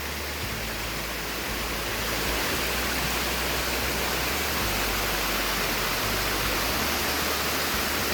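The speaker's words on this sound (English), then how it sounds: "Waterfall number 2." Steady, dense rush of a Pennsylvania waterfall pouring down rock, a broad continuous roar filling the scene evenly from start to finish with no voices over it.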